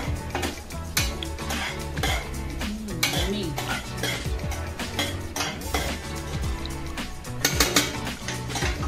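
Clattering metal cookware as a lid comes off a pot of vegetables cooking for veg biryani, with repeated clinks and scrapes of utensils close by and a soft sizzle underneath.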